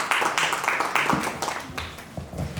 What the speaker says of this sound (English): Can we please welcome ma'am with a round of applause?